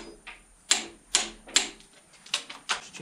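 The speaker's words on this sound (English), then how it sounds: "That's my new torque wrench." A new torque wrench clicks sharply about five or six times as crankshaft bolts on a 1955 Fordson Major 1963 block are tightened to roughly 100 newton meters, each crisp snap close and clear with short pauses between.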